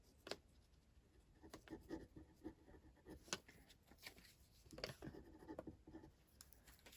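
A note is written by hand at close range: faint, scratchy pen strokes come in short irregular bursts with brief pauses between them, in a quiet room.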